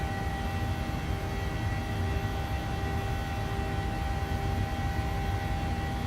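Simulated airliner engine drone in Microsoft Flight Simulator 2020 after a slight throttle reduction on a flight from San Diego to Las Vegas, a steady, dense hum with faint tonal whine, unchanging throughout.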